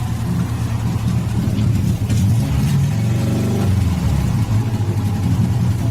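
An old Saab car, started after 30 years standing in a garage, revs its engine hard with rear wheels stuck in mud; a loud continuous engine roar swells and rises in pitch midway, steady throughout.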